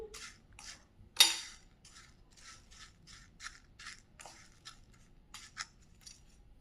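A spoon mixes an evening snack in a dish with quick, irregular metallic scrapes and clinks, one sharper knock early on, close and fairly quiet with no voices.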